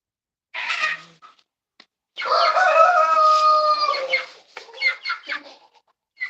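Chickens in a small backyard flock give a short squawking call, then a rooster crows loud and close for about two seconds, followed by a burst of choppy clucks and a final squawk.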